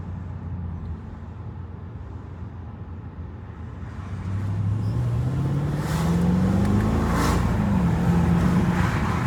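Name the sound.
Mercedes E55 car accelerating on the road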